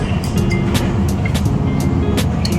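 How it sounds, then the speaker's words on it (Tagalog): Busy street traffic with many vehicles passing, a steady loud rumble of engines and tyres with occasional horns and brief higher whines over it, with no voices. "Medyo maingay kasi maraming sasakyan."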